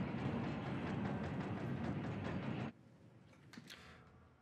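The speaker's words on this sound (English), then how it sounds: "This tram is bound for Nest." A tram rolls along in Resident Evil 2 Remake, a loud, steady rumbling rush that cuts off abruptly partway through, leaving a quieter hush with a few faint clicks.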